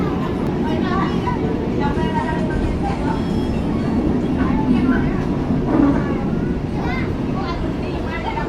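Airport train running on rails at a gentle 53 to 59 km per hour, a steady low rumbling drone with faint rhythmic clatter throughout, with people talking over the noise.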